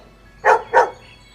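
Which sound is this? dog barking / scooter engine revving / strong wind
dog barking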